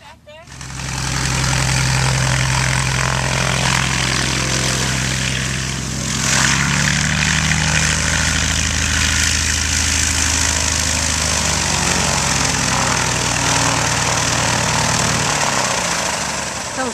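Propeller-driven light airplane engine running steadily at a Texas fly-in, loud and close with a continuous droning hum that briefly swells midway; people talk faintly in the background.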